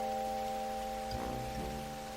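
Cartoon rain falls as a soft, steady hiss at low volume, with a sustained humming tone underneath through the short stretch.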